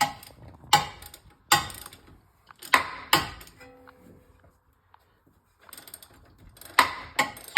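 A wrench ratchets in short bursts while tightening brake bolts on a 2021 Subaru Ascent during front brake service, a series of close metallic clicks that pause briefly before resuming.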